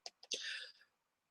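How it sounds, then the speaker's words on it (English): A pet ferret sneezing indoors: two tiny quick puffs followed by a sharper, hissy sneeze with a breathy tail, close and fairly soft. "It's like one of the ferrets is sneezing."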